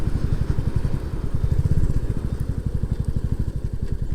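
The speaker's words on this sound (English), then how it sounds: "Got another bike. Little Himalayan." Close, steady thumping of a Royal Enfield Himalayan motorcycle engine, a fast, even run of pulses at an idle-like pace with no speech.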